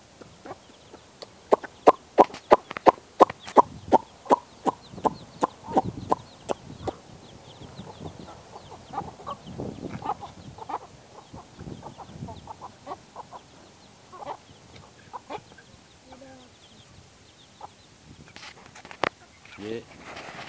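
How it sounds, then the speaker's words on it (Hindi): Repeated short clucks from a young rooster, fairly close, in quick bursts at first and then scattered, with other birds faintly around. "ये छोटी मुर्गी अभी पूरी नहीं हुई है। मुर्गा है ये।"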